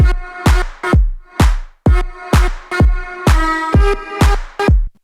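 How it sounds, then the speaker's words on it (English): A looped electronic drum beat with heavy, harsh distortion plays loud and alone: about a dozen gritty, pumping hits in a steady groove, each smeared with buzzing overtones. "Beef it up with some harsh distortion."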